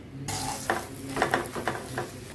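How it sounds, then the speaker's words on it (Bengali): A paratha fries in refined oil in a pan, giving a steady close sizzle with several sharp scraping and stirring clatters of a utensil spaced through it. "এবার এটা রিফাইন অয়েলে আমি ভেজে নিচ্ছি"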